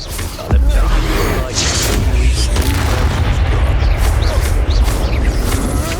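A Bombarda explosion spell goes off in Hogwarts Legacy, a loud booming blast followed by sustained rumbling combat noise with crackling debris throughout.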